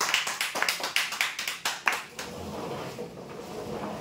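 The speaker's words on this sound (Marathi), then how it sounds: "जोरदार टाळ्या होऊ द्या।" Applause at a weekly lottery prize draw as a winner is announced: a burst of loud, quick clapping from a small crowd for about two seconds, then fading into a soft room murmur.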